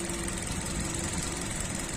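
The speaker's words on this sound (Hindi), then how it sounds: "ये अभी इंजन इसका रनिंग है, इंजन चल रहा है।" A truck's large diesel engine idles with its radiator fan stopped, a steady loud close-up rumble with a faint knocking vibration and no talking.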